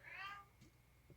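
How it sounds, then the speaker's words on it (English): A house cat gives a single short, faint meow close by, followed by quiet rustling. "Sorry, that's my cat."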